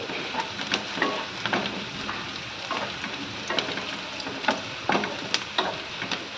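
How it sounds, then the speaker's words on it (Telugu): Onions fry for a chicken curry in a hot pan, a dense continuous sizzle close up, broken by repeated scraping and stirring strokes at an uneven rhythm, with no voices. "ఈ విధంగా మనం వీలైనంత బాగా ఉల్లిపాయల్ని ఫ్రై చేసుకోవాలి"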